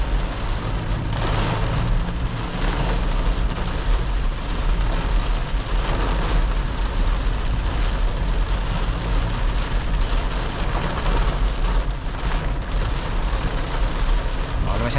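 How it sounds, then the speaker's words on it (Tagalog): Heavy typhoon rain drums steadily over a constant low rumble of a moving Toyota Prado, a dense, unbroken wash of noise from start to finish. "nag-iwan ng ganito malakas na pag-ulan."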